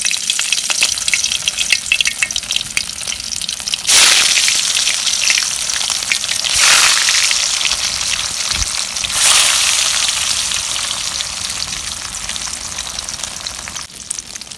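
Eggs frying in hot oil in a wok, a loud continuous sizzle that swells sharply when the eggs go in and stays dense and crackling, with a brief utensil knock near the end.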